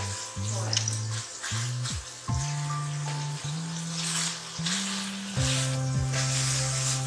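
Beef keema with capsicum (shimla mirch) sizzles and fries in a pan, a continuous loud sizzle broken by repeated stirring and scraping sounds, with someone talking over it.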